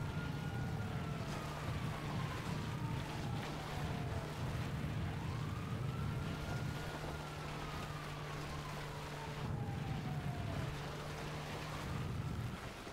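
Police car sirens in the video game GTA V wail with rising and falling sweeps, sounding continuously for about thirteen seconds over a steady low engine rumble, with no talking.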